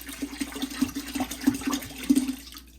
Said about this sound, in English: Now you're going to add a whole 10 ounces of Kiko Man soy sauce.